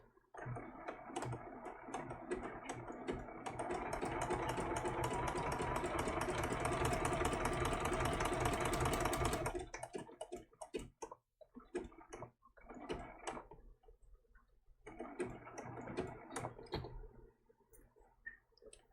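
A sewing machine stitches a turtle applique in a steady run of close, quick needle clicks, pauses briefly at a pivot point, then resumes in shorter bursts with gaps of quiet between them.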